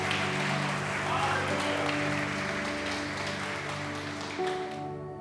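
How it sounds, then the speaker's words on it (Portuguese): Church congregation applauding at a service, with loud sustained clapping and a sustained musical tone underneath, tapering off at the end. "Então aplaude e glorifique o nome do Senhor."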